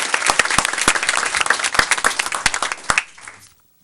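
An audience at a school board meeting applauds four students, with lively clapping and a few sharp individual claps standing out, building, then tapering off and ending abruptly into silence after about three and a half seconds.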